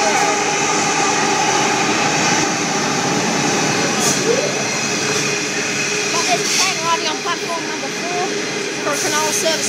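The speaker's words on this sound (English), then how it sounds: "Freight train on platform 3." Steady rumble and hiss of a Pacific National freight train at a station platform in Rockdale, with squealing metallic tones and a faint announcement-like voice over the constant drone.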